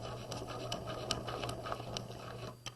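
A sewing machine runs steadily, stitching a jacket sleeve casing shut, with a faint continuous hum and light rhythmic patter of the needle, fairly quiet and without voices.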